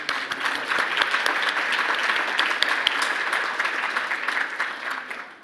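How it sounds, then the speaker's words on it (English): An audience at a panel presentation bursts into sustained applause, dense even clapping from many hands at steady loudness, tapering slightly at the end. "Please, let's give a warm round of applause to our first panel."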